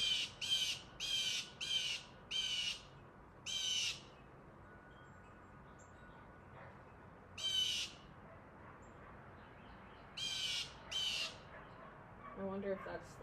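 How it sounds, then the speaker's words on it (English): A bird calls outdoors in loud, harsh squawks, about ten short bursts spread across the stretch, some in quick groups and others spaced apart, over a quiet background with faint rustling near the end. "I wonder if that's the daddy bird home to roost"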